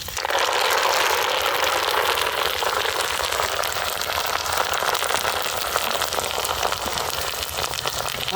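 Curry leaves fry in hot oil for a country chicken dish, a loud dense hiss crackling steadily and evenly throughout.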